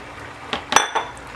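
Metal utensils clink against a container while lye is stirred for soap making, three or four brief sharp clinks in a row over a quiet background.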